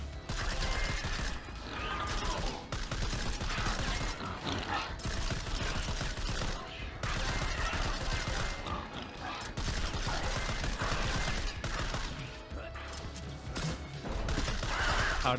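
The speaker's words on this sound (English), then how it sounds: "I really like the machine gun because you can get the headshots with it." A machine gun in the video game STRAFE fires in loud, sustained bursts, the dense rattling broken by short pauses and mixed with mechanical clatter.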